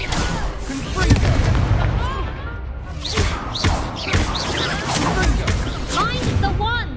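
Confringo blasting spells in Hogwarts Legacy go off as repeated booming bursts and pops amid a dense, busy battle, with shouted voices running throughout.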